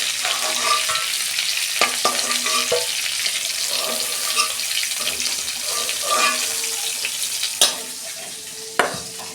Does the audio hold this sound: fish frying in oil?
yes